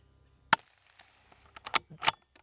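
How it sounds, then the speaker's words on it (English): A Bergara BMR-X .22LR rifle fires match ammunition, sharp short cracks spaced unevenly over a couple of seconds, with a few quieter clicks between them in a quiet outdoor setting. "So that's why I am shooting this match ammo."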